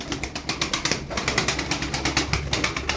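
Pigeons fresh from a bath, wings still wet, flapping in a rapid series of sharp, close wingbeats with a steady pulsing rhythm, occasional soft coos mixed in and no talking.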